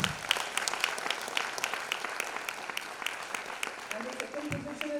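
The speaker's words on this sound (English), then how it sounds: "They deserve a good lot of applause." Audience at a 2019 ISTD diploma convocation ceremony applauds, a steady stream of many hands clapping at moderate distance for about five seconds, with a faint voice or tone entering near the end.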